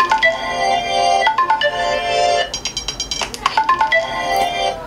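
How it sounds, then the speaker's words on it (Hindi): A mobile phone lying nearby rings after a smartwatch's find-phone feature is triggered, a loud repeating electronic ringtone melody with rhythmic chiming bursts filling the whole stretch, no voice over it. "अब जैसे ही आप फाइंड फ़ोन पर क्लिक करेंगे तो आपका मोबाइल फ़ोन रिंग करना शुरू हो जाएगा।"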